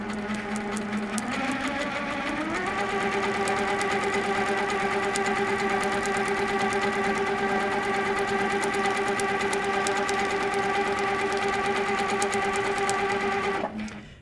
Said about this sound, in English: I can hear a little pucker pucker sound as the needle actually goes through the paint